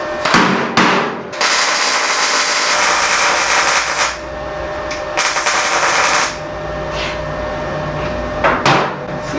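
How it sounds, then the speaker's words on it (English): Metal floor pan on a VW Baja Bug being hammered flat and tack-welded during floor pan replacement, with loud sharp impacts and bursts of harsh noise filling the workshop, some hits spaced out, others in rapid runs. "Tack it, hammer it, tack it, hammer it, tack it, hammer it until you can get everything to sit flat"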